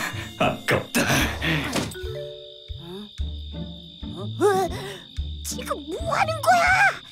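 A thin, steady, high mosquito whine runs the whole way through a Hello Carbot cartoon scene, under animated voices and sound effects.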